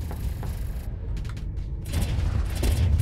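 Weapons fire during a Starsector space battle in a heavy, booming rumble, with sharp bursts and mechanical clatters layered over a dense low roar that swells louder toward the end.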